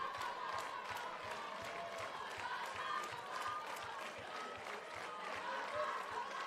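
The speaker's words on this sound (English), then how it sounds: "The Hanover fans clapping and making some noise." Softball fans in the stands at a Class 3A state championship game clap in a quick rhythmic pattern and make crowd noise, heard distant and faint across the whole stretch.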